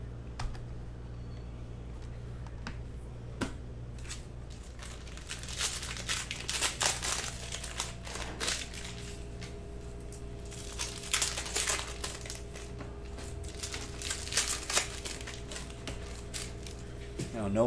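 A cello pack of 2019-20 Panini Prizm basketball cards is torn open and handled, close crinkling and tearing plastic with light clicks over a steady background hum.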